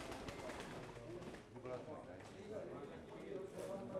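Pigeons coo steadily in a loft or flock setting, layered with other bird calls and mixed under nearby people talking throughout.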